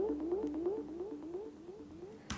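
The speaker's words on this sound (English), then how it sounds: "And a little arpeggiated line with our drill instrument." Arpeggiated synth line built from a power drill sample, a quiet repeating pattern of short rising pitched notes in an even rhythm, faint and alone, ending on a brief burst of noise.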